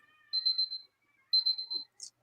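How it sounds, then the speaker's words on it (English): Thin electronic beeping sounds in the background during a televised debate, two drawn-out pulsing tones about a second apart with a faint higher blip after, quiet and otherwise alone. "I hear a beeping in the back"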